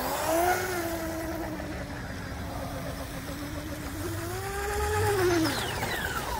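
A 1/8 scale Tiny Titan TP micro hydroplane with a 2030 5210kv motor, Dynamite 30A ESC and 1300 mAh Venom pack runs on water, its faint whining pitch rising and falling as it speeds past at a distance.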